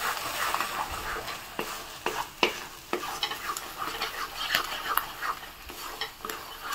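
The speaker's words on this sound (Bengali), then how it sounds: "নেড়ে চেড়ে ভালো করে ভেজে নেব।" A spatula stirs food frying in a pan while making a Bengali roasted pointed gourd bhorta, giving repeated scraping strokes over a steady soft sizzle, close and fairly quiet.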